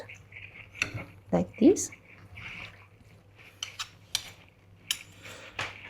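A salad dressed with apple vinegar is tossed in a bowl, giving scattered clinks and scrapes of utensils against dishware, sparse and fairly quiet, with a brief spoken remark in between.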